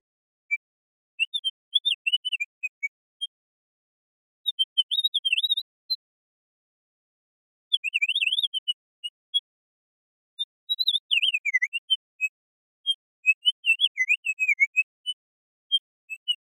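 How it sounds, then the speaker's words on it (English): Synthesized bird calls patched in VCV Rack with free modules: short bursts of chirping, warbling tones repeated in irregular clusters, clean and fairly loud against silence, with no talk. "And so now we have our bird sound."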